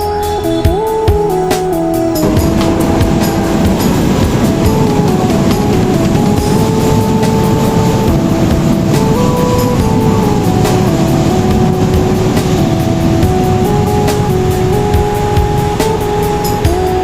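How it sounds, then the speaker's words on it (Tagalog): A train pulling into a terminal station in Manila, a loud steady rumble and rattling roar with a shifting tonal whine, dominating from a couple of seconds in. "andito na tayo sa terminal ng train. Mag-aabang tayo sa kanyang pagdating."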